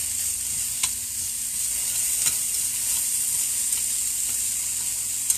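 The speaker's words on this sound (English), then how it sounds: "So there's some more bok choy for the stir fry as well." Bok choy stir-fried in a pan gives a steady, close sizzle throughout, broken by a few sharp scrape-and-clatter hits of stirring; no one talks.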